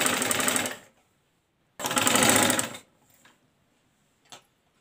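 A sewing machine stitches a raglan sleeve on a baby frock in two loud bursts of rapid mechanical rattling separated by a pause, followed by faint clicks and a brief tap.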